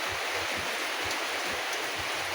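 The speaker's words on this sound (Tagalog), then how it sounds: "Pabalik sana ako ngayon kaso lang lakas ng ulan oh" Heavy rain pours at a seaside fishing spot as a dense, unbroken hiss that stays loud and even throughout, with no talk.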